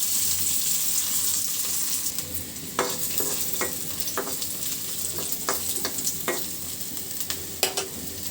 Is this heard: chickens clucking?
no